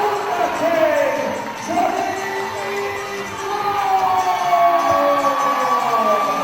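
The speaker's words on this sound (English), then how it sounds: "And you can hear it from the crowd." A wrestling crowd at an All Star Wrestling versus FWA show cheers and roars steadily in a large hall, a sustained swell of voices beneath a commentator talking throughout.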